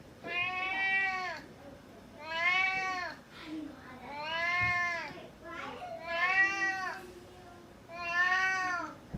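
An orange house cat meows repeatedly, five drawn-out, close and clear calls with short pauses between them, with no talking.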